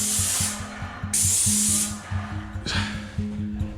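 Two bursts of a paint spray gun hissing while spraying a staircase, each lasting under a second, loud and close over a steady low motor hum.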